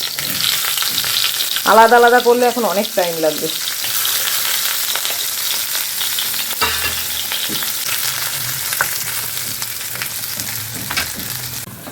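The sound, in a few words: eggplant and pumpkin frying together in a pan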